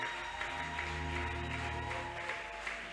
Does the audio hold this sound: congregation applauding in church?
yes